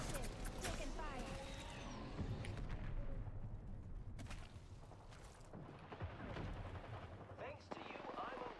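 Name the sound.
gunfire from a video game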